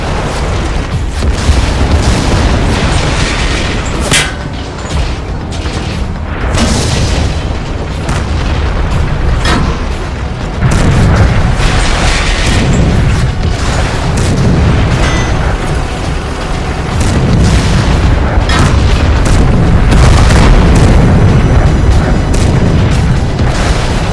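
Cartoon tank cannons fire in a battle, dense rumbling booms and blasts piling up continuously and loudly with mechanical clatter over a long stretch.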